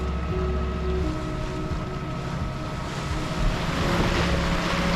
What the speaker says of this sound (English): I'm using the engine for full power to burn out the diesel